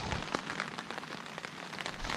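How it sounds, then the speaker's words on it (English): Steady rain pattering on tents at a hunting camp, a dense continuous hiss with scattered sharper drops close by, no voices. "well and truly raining."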